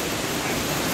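Waterfall in Sapa, Vietnam, a dense, steady roar of rushing water heard close and loud without a break.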